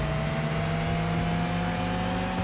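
Race cars in Gran Turismo 2, a loud continuous engine drone with steady tonal whine, several cars running together without pause or let-up.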